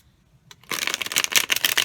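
Mermaid oracle cards riffle and snap in a fast, close shuffle that starts after a brief quiet moment and continues steadily to the end.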